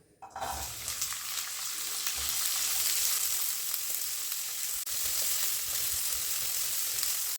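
Baby corn tipped into a hot stir-fry pan with cooked vegetables, setting off a loud, steady sizzle and crackle of frying that holds evenly throughout.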